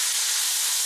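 Pork meat frying in a pan, a loud, close, steady hiss of sizzling fat with no breaks or voices.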